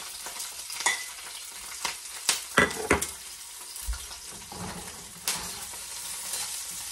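Garlic and onion sautéing for Filipino chicken adobo, a soft sizzle under several sharp scrapes and clacks of a spoon stirring the pan, close by and fairly quiet.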